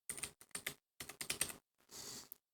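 Fingers type on a computer keyboard in quick, close clattering bursts separated by short pauses, ending with a longer, steadier run of keystrokes.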